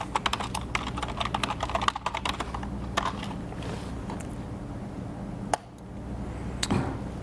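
Keys clatter on a computer keyboard in quiet, irregular bursts of clicks, with short pauses and a single louder tap near the end, close by and alone.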